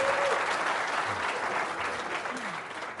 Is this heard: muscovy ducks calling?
no